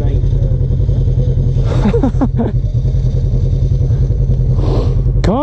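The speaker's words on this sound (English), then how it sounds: "What is that knocking? Clutch and belt, I think, is coming apart." A trail vehicle at Windrock with a failing clutch and belt idles loudly up close, its rough engine drone carrying a steady rhythmic knock, with brief voices over it.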